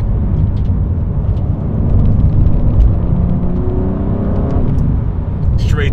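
BMW M4 CSL accelerating on the road, a loud steady engine and tyre roar with faint ticks of debris hitting underneath.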